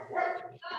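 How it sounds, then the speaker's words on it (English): A pet dog gives a quick, close bark or yip indoors, a single burst of under a second with no other sound around it. "That's my dog."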